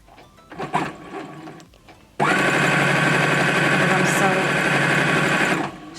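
A sewing machine stitches along a fabric edge for makeup wipes, starting abruptly after a few quiet handling sounds and running in a fast, steady whir close by for several seconds before stopping.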